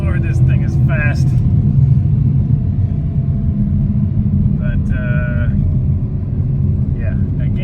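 Porsche Cayenne Turbo 958 in sport mode with a SOUL aftermarket exhaust, accelerating: a steady, loud low rumble from the engine and exhaust throughout, with a person talking over it.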